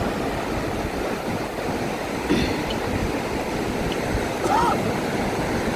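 Sea waves washing in at high tide on Chandipur beach, a steady close roar of surf mixed with wind, while people talk faintly over it.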